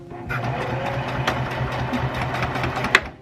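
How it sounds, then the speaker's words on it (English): A sewing machine stitches fabric in a steady, close mechanical whir with rapid needle ticking, running continuously and ending with a sharp click as it stops. "Put it down like I normally would. And we're gonna sew."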